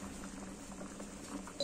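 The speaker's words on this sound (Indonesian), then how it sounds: "Lalu masak lagi hingga mendidih dan sayuran matang." Soft bubbling and light popping of Indonesian sour vegetable soup simmering in a pot, quiet and close, with a small clink near the end.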